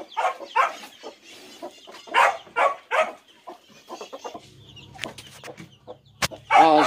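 Hens on a small farm, heard as a series of clucks and short calls in bursts, close by, with a low hum and a few sharp knocks toward the end.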